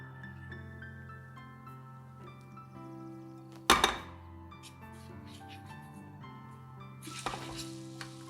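Asafoetida and chillies sizzle in hot oil during tempering, a crackling fry under a low hum, broken by a sharp metallic clatter midway and a brief burst of louder sizzling near the end.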